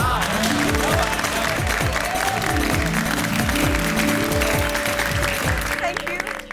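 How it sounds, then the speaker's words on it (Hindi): A group of neighbours applauds in a sitcom housing society, the clapping a continuous bright hiss spread across the whole clip, blended with a loud musical jingle. "सबको प्रेरणा देने वाली आपकी सोच के लिए तालियां तो बनती है"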